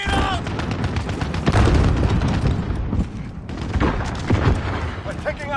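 Gunfire and a booming blast in a shooter video game, rapid shots and heavy impacts crowding the mix, loud and close, with a voice speaking partway through.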